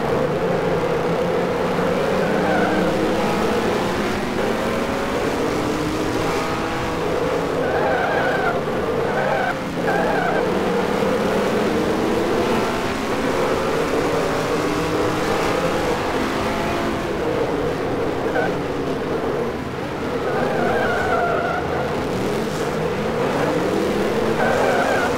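Porsche flat-engine Can-Am racing car from 1971 in the Automobilista video game, its engine droning and revving steadily while the car slides through gravel, a continuous loud roar with shifting pitch throughout.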